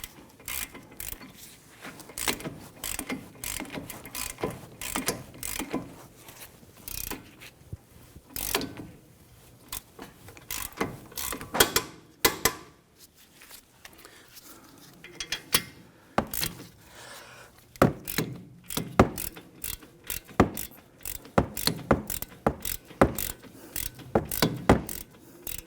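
A torque wrench tightens the front hub bolts on a 2017-2020 Hyundai Elantra to 72 foot-pounds, giving close, rapid bursts of ratcheting clicks and mechanical knocks in an uneven rhythm.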